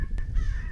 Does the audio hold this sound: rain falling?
no